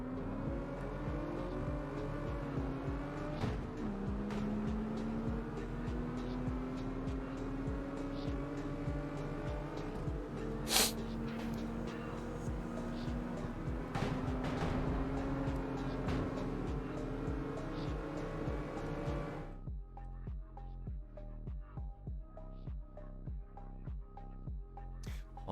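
Engines in the CarX Drift video game, a loud sustained revving drone with rising and falling pitch and tyre-like squeals, then abruptly cutting to quieter idling tones near the end.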